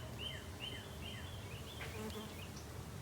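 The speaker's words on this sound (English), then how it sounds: "And that bee right there, he's doing his job." A bee buzzes among blooming flowers in a front and side garden in February, a steady faint drone lasting throughout over outdoor background noise, with high bird-like chirps above it.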